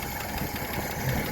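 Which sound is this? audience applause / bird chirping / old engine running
old engine running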